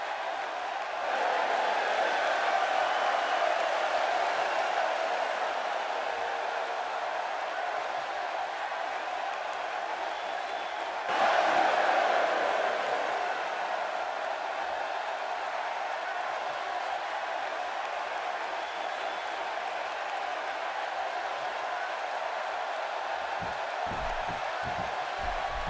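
A wrestling arena crowd in WWE 2K16 keeps up a steady mixed roar as Bret Hart enters, a swell of cheering rising midway, with commentators talking over it.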